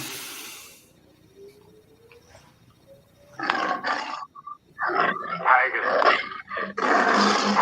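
A tiger roars in a film trailer, starting with a quiet stretch and a rising tone before loud, rough roars and growls break out in several bursts, close and forceful, with some voices mixed in.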